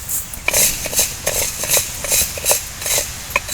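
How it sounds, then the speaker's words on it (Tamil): Mung beans dry-roasting in a hot kadai, giving a soft irregular patter of small crackles and scraping stir strokes, close and moderately quiet, with no talk. "கடாய் காஞ்சிடுச்சு நம்ம இப்போ பாசிப்பயிறு கொஞ்சம் போட்டு வறுத்துக்கலாம்"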